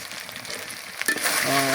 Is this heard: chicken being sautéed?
yes